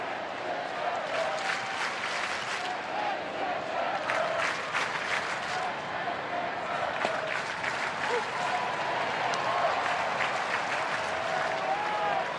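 A large baseball crowd at an Atlanta Braves home game in misty, rainy weather applauds and cheers steadily, a dense wash of clapping from a big stadium audience that holds throughout, with a commentator's voice faintly underneath.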